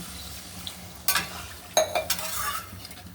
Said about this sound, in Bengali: এবার আমি একটু জল ঢেলে দিচ্ছি।